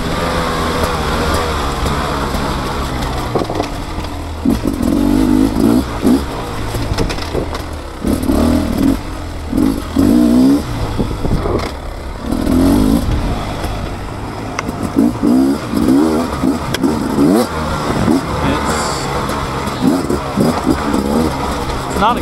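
A 2024 Beta 300 RR two-stroke dirt bike engine runs steadily while riding, a continuous buzzing drone with repeated rises and falls in revs, loud and close throughout.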